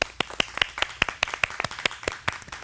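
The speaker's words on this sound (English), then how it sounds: "Please give them a round of applause." Applause for police officers from a small audience, a handful of crisp individual claps in a brisk, fairly even rhythm, close and clearly separated rather than a blended roar.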